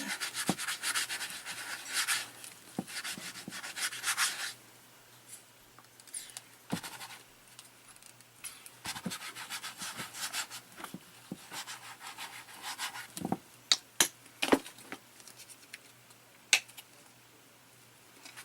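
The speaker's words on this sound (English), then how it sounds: "So I'm just blobbing it on and rubbing it in." Paint being rubbed by hand onto a surface, a soft, irregular scrubbing and smearing with bursts of friction noise and a few sharp taps, fairly close and quiet with no talking.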